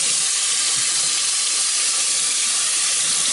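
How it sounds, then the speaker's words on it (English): Hot tap water runs continuously as it rinses a child's natural hair, a steady hissing stream with no voices. "I'm just going to get the hot water and just rinse her hair."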